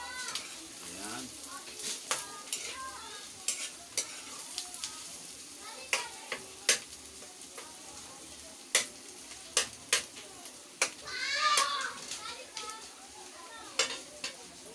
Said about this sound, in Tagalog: Pula-pulahin natin ng konti yung ating sibuyas.